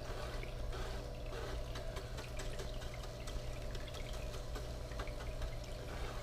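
Water flows steadily across a Black Scorpion gold sluice table outdoors, a constant close rushing wash with a low rumble underneath, running without pause and with no voices.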